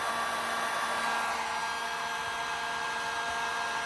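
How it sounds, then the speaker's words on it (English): Heat gun running on high through a power inverter, a constant, loud blowing hiss with a steady motor hum that holds unchanged throughout, with no talk. "That is on high. Heat gun is on high."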